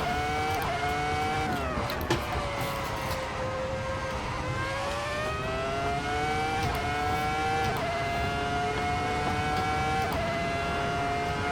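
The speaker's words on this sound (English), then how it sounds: "The last great loud Formula 1 car" A high-pitched Formula 1 car engine in a racing video game at Spa screams continuously, its pitch rising and dropping with gear shifts, loud and close throughout.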